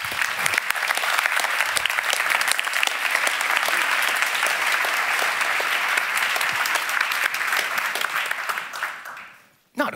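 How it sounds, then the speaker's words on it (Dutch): An audience at a talk gives loud, sustained applause, dense steady clapping for about nine seconds that fades out abruptly near the end. "om die reden kunt u wel een warm applaus geven."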